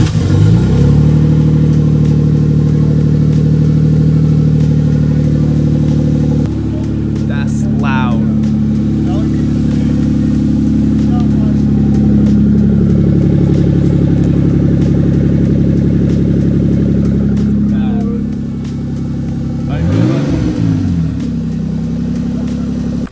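A Toyota Supra fitted with a catless downpipe fires up at night and settles into a loud, droning idle, with a couple of sharp revs cutting through and voices chatting near the car.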